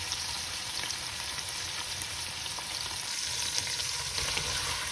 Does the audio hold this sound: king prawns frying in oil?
yes